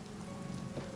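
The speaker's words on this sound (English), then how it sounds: "Oh, it's rain." Rain falls steadily in the video game Elder Scrolls IV: Oblivion Remastered, a soft, even patter and hiss, quiet and continuous.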